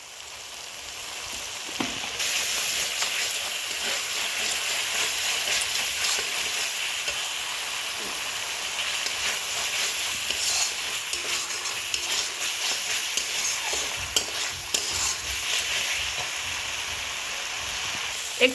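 Katla fish curry with cauliflower cooking in a pan, a steady sizzle and hiss with soft scraping stir strokes running throughout at moderate loudness.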